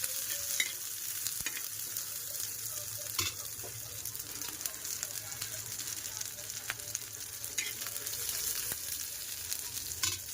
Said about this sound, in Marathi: आता आपण एक चमचा तेल टाकून घेऊया कांदा सुद्धा मस्त लाल रंगाचा होईपर्यंत भाजून घ्यायचा आहे